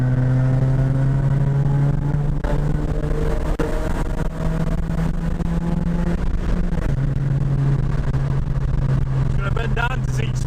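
A Honda Civic Sport EP2 drives in a low gear through a small village, its engine giving a steady droning hum, heard from inside the car with people talking over it.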